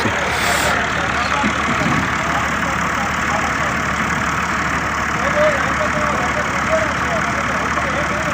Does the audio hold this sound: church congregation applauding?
no